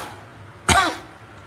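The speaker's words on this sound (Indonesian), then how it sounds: "Tinggal batuk doang." A single short cough from one person, close and fairly loud, breaking a quiet room-tone background.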